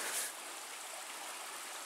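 A creek flows just below a hiking trail on the Superior Hiking Trail, giving a steady, even broadband rush of water that holds constant and fairly soft throughout, with no voices.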